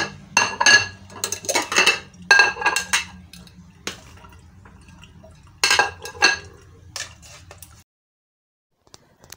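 Dishes and cutlery clinking while food is served onto plates in a home kitchen, close bright clatters and scrapes arriving in clustered bursts, then falling silent near the end.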